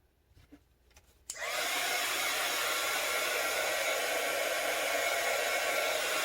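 A hair dryer switches on after a second of near silence and blows loud and steady at close range, quick-drying a coffee-stained paper page.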